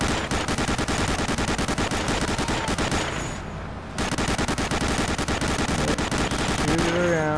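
Sustained rapid machine-gun fire with dense, overlapping gunshots roars close and loud in Medal of Honor: Allied Assault, pausing briefly before resuming, with a whistling sweep near the end.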